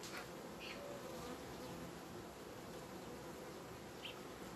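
A dense, steady buzz of a honeybee colony humming together, continuous and close throughout, with a few brief louder passes of individual bees.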